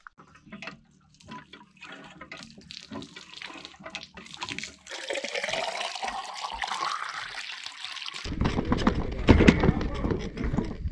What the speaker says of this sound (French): Je pompe.